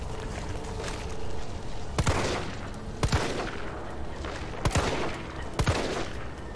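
Gunfire in the Resident Evil 3 Remake video game: several sharp, loud single shots spaced a second or so apart over a steady background rumble and clatter.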